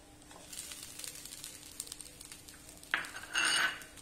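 Boiled tapioca (kappa) being added to dissolved, dried sugar in a pan for tapioca laddu. Faint clinks of a utensil against the pan, then a louder scrape and stir near the end.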